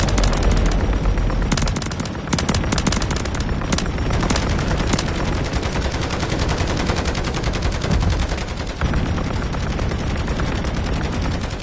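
Rapid automatic gunfire in MW3 Zombies rattles loudly and almost without pause, with dense bursts of shots and impacts filling the entire span.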